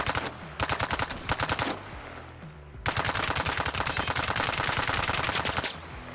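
A bipod-mounted machine gun in Arma Reforger fires sustained loud automatic bursts: two short strings of rapid shots, a brief pause, then one long continuous burst that ends abruptly, with no talking.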